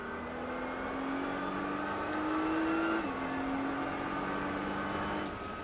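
A Nissan GT-R engine accelerates on a race track, a loud steady in-car drone whose pitch climbs smoothly, dips with a gear change, then keeps rising, with no talk over it.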